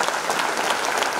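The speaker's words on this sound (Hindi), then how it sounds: "जोरदार तालियां सर के लिए।" Loud, dense applause from a large seminar audience fills the whole stretch, steady clapping with no pauses and no voices on top.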